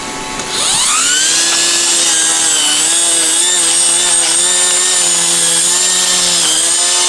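A 40-volt battery lawn edger spins up with a rising whine and then holds a steady, loud, high-pitched buzz as its blade cuts through an overgrown edge, the pitch dipping slightly under load; no one speaks.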